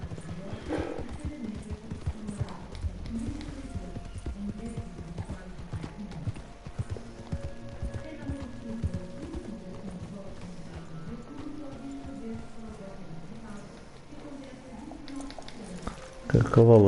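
Horse hooves clip-clopping at a steady walking rhythm in the video game Red Dead Redemption 2, continuous and moderately close, with someone speaking over the steps and occasional game sounds.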